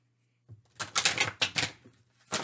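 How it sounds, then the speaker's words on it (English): A large tarot card deck being shuffled by hand, several quick riffling bursts after a brief silence, close and crisp, with a short pause before a final riffle. "So, excuse me as I shuffle."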